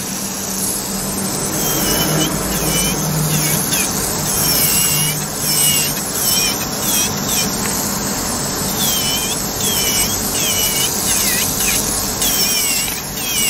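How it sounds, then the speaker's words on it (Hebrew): Gel coating on natural fingernails being worked with a nail file, a steady close scratchy rasp running throughout, with small squeaky chirps breaking through now and then. "אתן רואות, השיוף קליל, יש לי עוד פצירה ואני ידקק לה קצת יותר"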